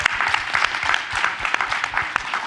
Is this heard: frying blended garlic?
no